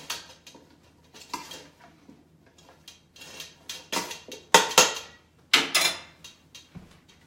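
Roasted vegetables dressed with olive oil are tossed together, giving irregular clinks and scrapes of a utensil against a bowl or pan. The clatter is close, grows louder and busier toward the middle, and comes with no talking.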